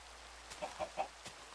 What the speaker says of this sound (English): New chickens as well.